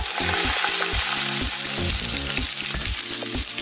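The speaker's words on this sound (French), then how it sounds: "Faites frire jusqu'à ce qu'ils deviennent clairs." Onions fry in oil in a heated pan with a steady close sizzle, and intermittent stirring sounds break through it in a loose rhythm. No one speaks.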